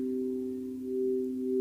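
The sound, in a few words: crystal singing bowl tone, 432 Hz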